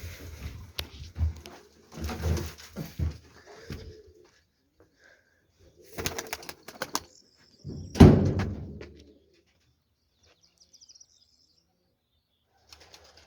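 A young pigeon in a coop beats its wings in several bursts of loud, close flapping, separated by quiet gaps, with a few soft scuffs and faint cooing.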